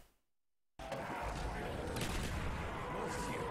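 Rapid gunshots from a zombie-horde shooter game, starting abruptly after a short silence and continuing as dense, loud, overlapping fire with a constant roar of game noise underneath.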